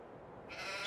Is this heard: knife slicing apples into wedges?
no